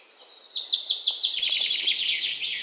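A cartoon crow imitates a small bird's chirping call, giving a quick run of bright, high twittering chirps that sound close and clear, with no talking.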